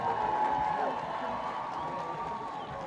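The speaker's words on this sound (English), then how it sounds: "Please, other graduates, let us clap for them as they take their positions." Audience at a university graduation ceremony applauding graduates as they take their positions, a broad wash of crowd clapping and murmur heard from a distance and steady throughout.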